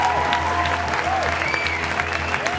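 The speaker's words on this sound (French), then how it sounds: "Maximum d'applaudissements encore pour lui, s'il vous plaît." An audience claps in a brief, dense burst of applause at close range, with a voice faintly present underneath.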